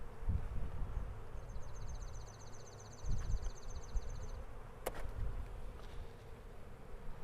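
Steady low insect buzzing from a mass of about 10,000 honeybees in a package, with a brief sharp tap partway through and a faint high whine drifting above.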